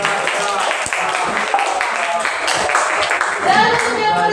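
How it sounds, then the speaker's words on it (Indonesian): Classroom group applauds during a teacher coaching session, with dense, steady hand clapping from many people filling the room, while speech carries faintly through it. "Kita kasih tepuk tangan sekali lagi."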